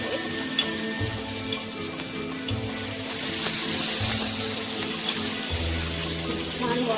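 Masala okra fries on a flat iron tava with a continuous close hiss and crackle of oil as the pieces are turned over, with occasional light scrapes.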